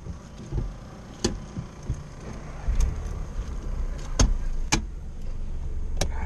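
A car engine starts and settles into a low, steady rumble, with scattered sharp clicks and knocks from inside the cabin, heard close with no talking.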